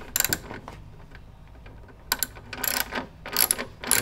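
A 13mm wrench working nuts off the side panel of a GS3 espresso machine, giving clicky metallic ratcheting bursts separated by quiet pauses, close and alone.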